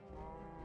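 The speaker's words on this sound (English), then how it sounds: "Oh, they have cows!" A Minecraft cow gives a short, steady low moo, loud and close, with no talking over it.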